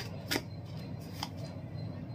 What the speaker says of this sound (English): I'm just going to pull cards here. I'm just shuffling for once.